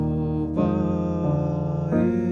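A piano plays a gospel counter melody with sustained chords over a low bass, shifting harmony a few times in slow, smooth movement, near and full, with no voice.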